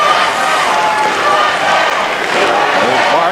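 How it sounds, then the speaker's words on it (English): Noisy, enthusiastic capacity crowd at a 1984 Olympic ice hockey game between Canada and the USA, a loud continuous roar filling the arena with a commentator's voice over it. "Very noisy and enthusiastic crowd."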